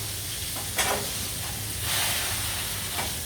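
Sole fillet sizzling in a frying pan, a steady soft hiss with brief louder crackling bursts now and then, close and fairly quiet, no voices.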